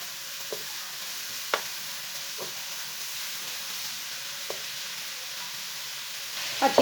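Grated carrots fry in hot oil over medium heat, giving a soft, steady sizzle with a few faint clicks of a spoon stirring the pan at intervals.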